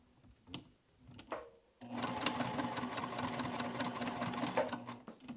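A sewing machine top stitches a dual-zip crossbody bag. A few brief clicks and handling sounds come first, then a steady, close mechanical whir runs continuously to the end.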